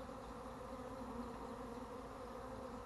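A honey bee swarm gathers on a pine tree, a dense continuous buzzing hum that stays steady and fairly faint throughout, with no voices.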